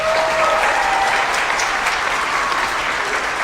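Audience applause at the 2024 Jackson County Fair royalty contest as the fair queen is crowned, a dense, steady round of clapping filling the hall, loud and continuous.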